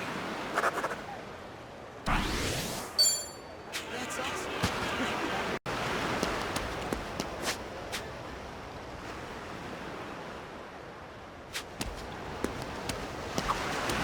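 Ocean waves in the video game Like A Dragon: Infinite Wealth, a continuous surf wash with scattered sharp clicks and knocks over it, fairly steady in level.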